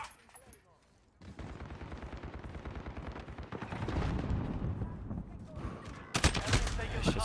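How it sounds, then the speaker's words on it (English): Sustained bursts of automatic gunfire in an online shooter game, dense and rapid, building louder toward the end after a brief quiet start. "Are they shooting through the walls?"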